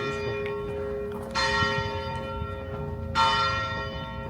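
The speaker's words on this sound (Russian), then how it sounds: "Сегодня прям перезвоны. Воскресенье, служба." Church bells peal for a Sunday service in a small town on Gran Canaria, two bright clanging strikes ringing out over a lingering resonant hum, moderately distant.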